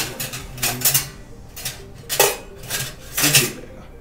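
A spoon clinks against a pot on a lit gas stove in a few sharp, metallic strikes spaced about a second apart, close and clear with no voices.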